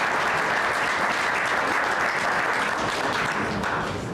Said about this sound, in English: Let's give Dr. Marshall another round of applause